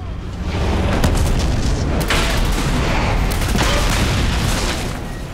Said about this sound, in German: Was eine Sprengladung überhaupt anrichten kann